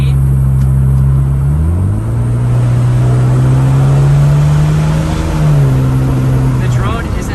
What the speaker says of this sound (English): We're just trying to see how much drone is inside the car with the windows down.